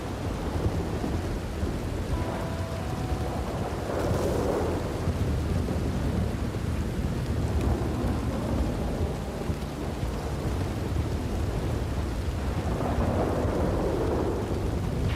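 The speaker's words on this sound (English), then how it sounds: "Got a downpour going right now. It's a downpour." A heavy video-game downpour: dense, steady rain roars throughout, with low rumbles of thunder rolling in under the hiss, and no voices.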